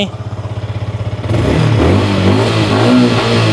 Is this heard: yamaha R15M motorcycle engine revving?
yes